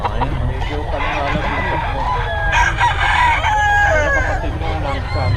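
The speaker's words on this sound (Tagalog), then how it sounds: "Pogi na mga manok dito ngayon" Several roosters crow over and over, loud and close, at a crowded gamecock gathering in Bocaue, with clucking, a goose-like honk and a steady crowd murmur underneath.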